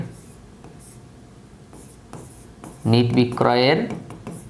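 Marker or chalk strokes scratch across a board in short bursts during an accounting lesson, soft and close, before a teacher's voice speaks over them.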